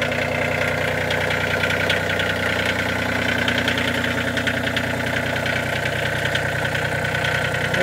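Small compact tractor fitted with a 7-foot three-point hitch back blade, engine idling steadily with a dense, rhythmic mechanical chatter and low vibration, constant and close throughout with no talk.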